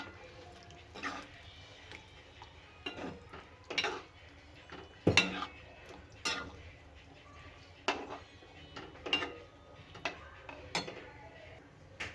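A spoon stirs and mixes stuffed brinjal curry with onion, tomato and green chilli masala in a pan, giving quiet, intermittent scrapes and metallic clinks spaced irregularly, with one sharper knock midway.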